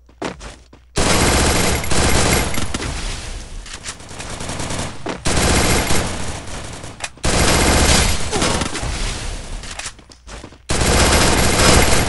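Loud bursts of automatic gunfire in a Free Fire ranked mobile match, rapid-fire volleys lasting a few seconds each, separated by brief gaps, close and dominant with no talk over them.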